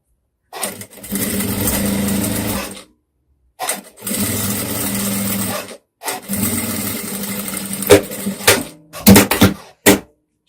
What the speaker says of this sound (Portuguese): Então, a gente vai costurar aqui a palinha das costas.